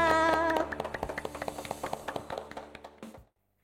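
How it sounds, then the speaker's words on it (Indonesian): A group claps hands together at an online church service for children: a steady run of about twenty sharp, evenly spaced claps that follows fading music and then stops abruptly into silence. "kita mau tepuk tangan buat Tuhan kita"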